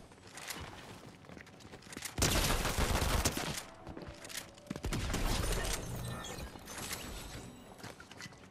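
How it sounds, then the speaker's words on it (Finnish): Rapid gunfire from a scoped weapon in the video game Fortnite, loud bursts of shots in quick succession with clatter and movement between volleys, no talking. "Nyt mä ammuin tuolla tähtäimellä."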